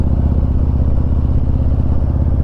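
A Harley Davidson Street Glide motorcycle rides along the scenic Foothills Parkway, its engine a loud, steady, close-up low rumble with a rapid pulsing throb throughout.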